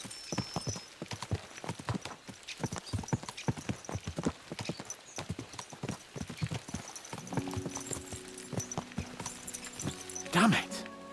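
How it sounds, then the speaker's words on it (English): Horses' hooves clip-clop in a steady walking rhythm while riding in Kingdom Come Deliverance 2, close and distinct, under someone talking, with a brief whinny near the end. "Let's really spur these horses on, eh?"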